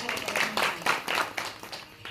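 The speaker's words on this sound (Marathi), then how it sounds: "एकदा जोरदार महाराजांसाठी टाळी" At a kirtan, the audience gives the maharaj a short burst of rhythmic hand clapping, several claps close together, heard over a speaker's voice.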